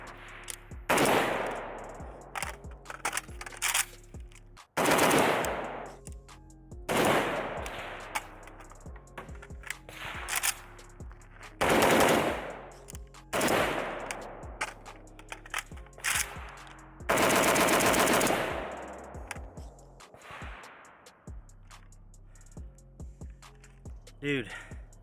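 Pioneer Arms 5.56 Sporter underfolder AK rifle with a forged trunnion fired at an outdoor range, loud sharp shots in bursts and singles with echoing decay and gaps between strings.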